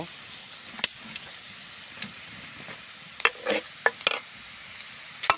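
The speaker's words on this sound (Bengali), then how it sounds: "তো প্রথমে পেঁয়াজ মরিচ তেলের সাথে ভালো করে এভাবে ভেজে নিব" Onion and chili fry in hot oil over a fire with a steady crackling sizzle, punctuated by sharp spattering pops and occasional clanks of a stirring utensil, close and unaccompanied by voices.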